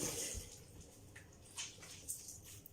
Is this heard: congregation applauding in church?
no